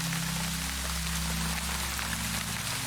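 Heavy rain ambience plays in a video game menu: a dense, even hiss of pouring rain over a low steady musical drone, continuous and loud with no voices.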